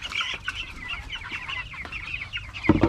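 A small flock of native chickens clucks close by in a rapid, overlapping series of short calls, with light rustling and a brief thump near the end.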